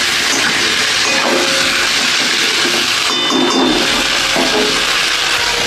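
Broth hits potatoes frying for a fish curry with tomato, black cumin and green chillies, setting off a loud, continuous steamy hiss that holds steady close up for several seconds with no voices.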